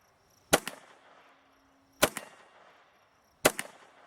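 A Walther-made Colt 1911 .22 pistol firing three sharp, loud shots spaced about a second and a half apart, each followed by a short echoing decay, with no voices.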